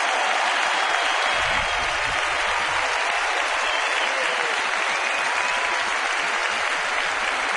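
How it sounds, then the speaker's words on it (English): A baseball stadium crowd gives a standing ovation to a pitcher, with broad, steady applause and cheering that stays loud and sustained from start to finish, no voices standing out. "And Scott Olson gets a well-deserved standing ovation."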